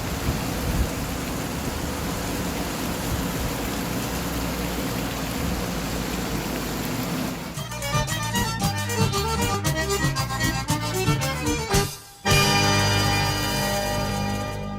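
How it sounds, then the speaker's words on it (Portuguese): Heavy rain falls in the Alto de São Manuel neighborhood of Mossoró, Brazil, a steady, even roar for several seconds before giving way to a rhythmic musical passage. "Chuva em Mossoró, no bairro Alto de São Manuel. Aê, menino, chuva boa."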